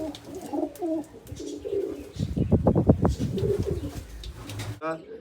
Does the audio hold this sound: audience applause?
no